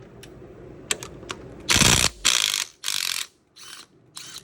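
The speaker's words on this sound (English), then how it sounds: "It takes the bolt off the exact same way." A ratchet with a triple square socket backing out a flywheel bolt, a few short rapid clicking bursts separated by brief pauses, close and crisp.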